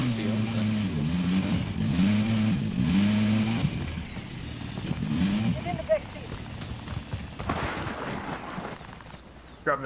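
Vehicle driving in Call of Duty Modern Warfare: a steady engine drone that rises and falls in pitch as it revs, with game noise and bursts over it and voices talking alongside.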